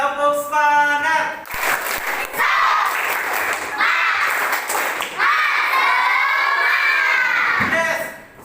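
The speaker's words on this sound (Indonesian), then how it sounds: "Yuk, tepuk semangat." A classroom of fourth- and fifth-grade schoolchildren chant and clap together in a rhythmic spirit cheer, loud and close. Their voices shout in unison over steady group claps in a lively indoor room.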